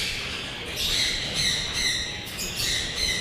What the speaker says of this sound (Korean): 오, 소형 앵무새.